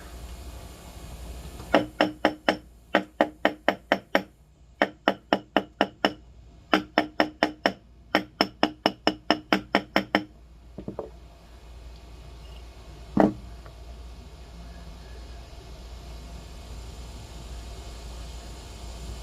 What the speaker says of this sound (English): now we're going to use a ball peen hammer.